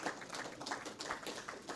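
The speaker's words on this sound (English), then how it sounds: "let's give Mr. Lamontagne a round of applause for that" Audience applause at a Saint Lucia semi-professional football league awards ceremony, a faint, distant patter of scattered hand claps sustained throughout.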